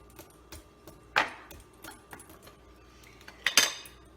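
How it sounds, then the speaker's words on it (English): A utensil scrapes and taps against a plate while hummus is spread flat, giving soft scraping strokes with a few sharper metallic clinks, close and alone. "I have to flatten the hummus in the"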